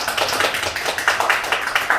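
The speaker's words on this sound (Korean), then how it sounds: "다시 한번 박수 쳐주세요." An audience at a Sinchon community concert claps steadily and fairly loudly, with many hands forming a dense, continuous patter that pulses slightly throughout.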